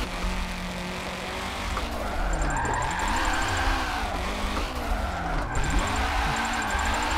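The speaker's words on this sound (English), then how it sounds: "That was a really long e-brake grab with a clutch pop to keep power." Nissan S13 with an SR20 engine drifting through a long e-brake grab and clutch pop, the engine note rising and falling steadily over several seconds with tire noise throughout, up close and loud, no talking.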